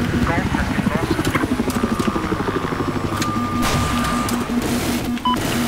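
A helicopter in the Battlefield 4 game over Golmud chops with a fast rhythmic rotor thump, loud and close at first, then fades under gunfire, game effects and a player's voice.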